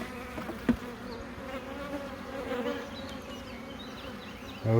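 Honeybees hum steadily in an open beehive during an inspection for the queen, a continuous close buzzing drone with individual bees passing near, a brief knock partway through.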